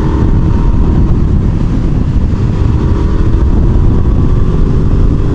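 A Suzuki SV650N V-twin motorcycle fitted with an Arrow exhaust, its engine giving a loud, close, continuous low rumble and burble that holds steady throughout.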